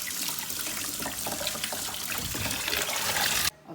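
Tap water runs steadily as food is washed in a sink, giving a loud continuous splashing rush that cuts off abruptly near the end.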